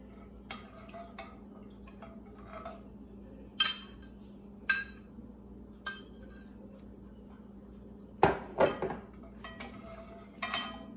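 Lemon juice is stirred into homemade black elderberry syrup, a spoon clinking against a glass or pot in scattered light taps over a low steady hum, a few louder clinks near the end.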